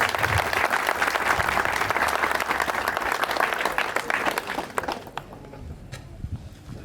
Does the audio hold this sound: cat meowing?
no